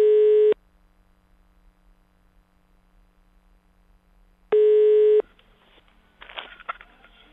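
A telephone call signal sounds in two long steady beeps, one at the start and another a few seconds later, with near silence between them and faint rustling noise after the second tone.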